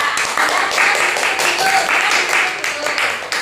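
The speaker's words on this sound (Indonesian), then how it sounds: "tepuk tangan buat Cila" A class claps for a student after her presentation, a burst of bright, close clapping from many hands, with some voices mixed in.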